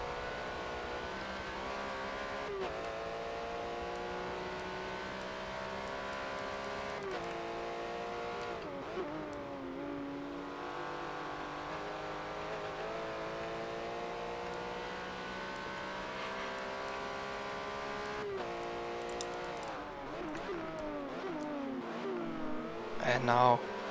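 Porsche Cayman GT4 Cup race cars lap the Hockenheimring, their engines droning and rising in pitch continuously as several cars run together, under steady talk, with a louder swell at the end.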